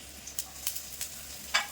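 Chopped ginger and garlic frying in hot oil, a quiet sizzle broken by several sharp utensil scrapes and taps at irregular intervals.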